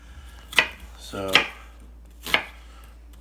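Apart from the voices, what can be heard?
chopping onions with a knife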